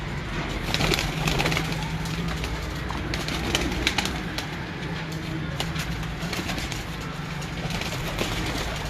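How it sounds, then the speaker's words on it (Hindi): Kasuri jaldar pigeons coo and stir on a rooftop in Kasur, a steady outdoor wash of low cooing and wing and feather noise filling the whole stretch, with no clear talk. "अब ये सारे कसूरी जालदार कबूतर आ चुके हैं बाहर"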